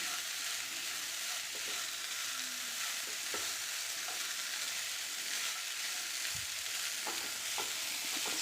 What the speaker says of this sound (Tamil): நம்ம வடித்து வச்சுருக்குறோங்க இல்லையா அவல், அதையே இதிலையே சேர்த்துருங்க. நல்லா கிளறிக்கோங்க.